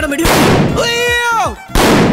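Gunshots ring out in a movie scene set below the Burj Khalifa in Dubai, two sharp loud blasts with a voice crying out in between.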